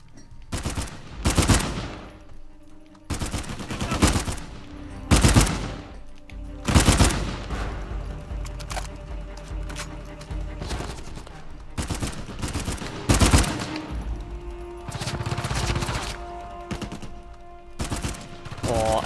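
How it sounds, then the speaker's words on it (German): Gunfire in the video game Uncharted 4 comes in loud, sharp bursts and rapid automatic volleys across the whole stretch, with brief lulls in between and some speech in the background. "Oh, ein Schuss."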